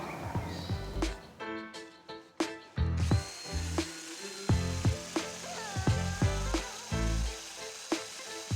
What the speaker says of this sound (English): get the damage rubbed down on the outer ring there, on the rim